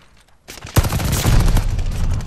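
Gunfire from the anime gun in the video game Call of Duty: Vanguard, a loud close burst of rapid automatic shots that starts abruptly after a short quiet lead-in and keeps rattling to the end.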